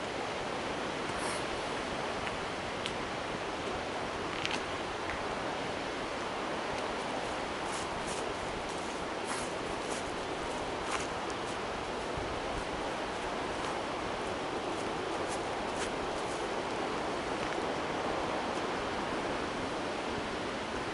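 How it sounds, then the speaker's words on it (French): Steady broadband roar of the Durolle river rushing near a waterfall at Thiers, a continuous wash of water noise holding even level throughout with faint scattered clicks and no voices. "Vous entendez le grondement de la Durolle."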